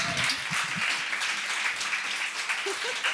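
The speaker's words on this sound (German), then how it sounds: "Freue mich natürlich auch mal über einen Applaus" Audience applause at a live variety show in a Freiburg bar, with steady close clapping filling the room for about three seconds and faint voices mixed in.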